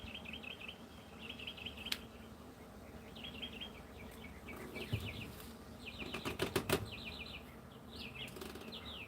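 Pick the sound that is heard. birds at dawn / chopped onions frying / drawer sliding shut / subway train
birds at dawn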